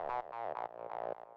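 A juicy monophonic acid synth line with glide, a handful of resonant notes bending into one another, close and clean with no talk over it.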